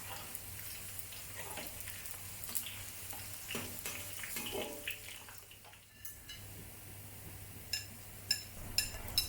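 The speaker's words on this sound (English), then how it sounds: "Add the onion rings to the oil and deep fry for about 2 minutes." Onion rings deep frying in vegetable oil in a wok over moderate heat, giving a faint, steady bubbling hiss with a low hum beneath. A few soft clinks and small pops come toward the end, with no voices.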